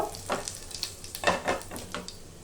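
Whole garam masala and cumin frying in ghee and oil for aloo dum, with a crackling sizzle broken by a few scraping stir strokes, close up and with no voices.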